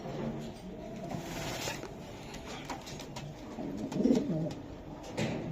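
A male racing pigeon gives a soft coo, clearest near the end, over quiet room noise.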